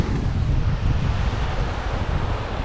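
Steady, loud wind buffets the microphone over a constant wash of surf at Flamenco Beach on Culebra, Puerto Rico, with no voices.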